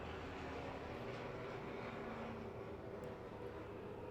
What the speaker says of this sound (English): There's a really loud plane outside.